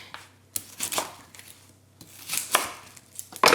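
A knife slices through an onion, quartering it on a cutting board with a handful of crisp separate chopping strokes spaced irregularly, close and clear against a quiet background.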